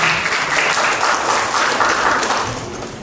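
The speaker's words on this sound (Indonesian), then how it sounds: "Tepuk tangan untuk teman-teman." Steady audience applause fills a grand launch event for a premium housing development, dense and continuous clapping from a large crowd that tapers slightly at the end.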